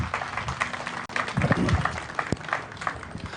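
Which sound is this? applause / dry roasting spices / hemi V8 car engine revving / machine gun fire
applause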